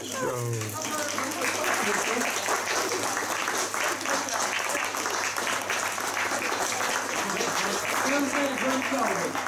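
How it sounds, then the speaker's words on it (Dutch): An outdoor crowd at a monument ceremony for a 1944 crash applauds steadily for several seconds, a continuous mass of clapping at moderate loudness with a low hum beneath. "ik vind dat we daar enorm applaus voor geven"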